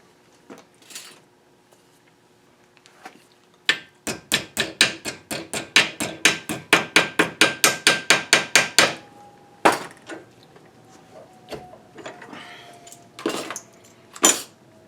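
A small strip of sheet metal, about an eighth of an inch, hammered over a crude improvised brake: a fast run of some twenty sharp metallic taps, then a few scattered louder blows with quiet gaps between.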